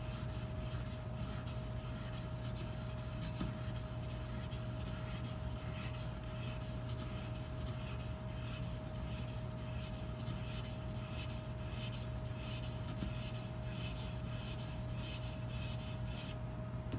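A boning knife being sharpened on an Edge Pro sharpener, its steady continuous rasping strokes close and even, running throughout over a constant low hum and a steady mid tone.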